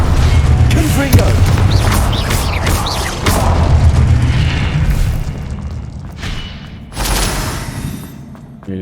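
Confringo fire-spell blasts in the game Hogwarts Legacy go off as loud, deep booms and bursts, several in a row, mixed with voices and other combat effects.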